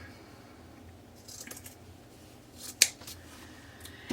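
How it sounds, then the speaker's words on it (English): Scissors snip through a knit sock top being trimmed for a Valentine's Day sock gnome, giving one sharp close cut near the end amid faint rustling of fabric in a quiet room. "that sock top that we cut off, I'm going to trim it down just a bit."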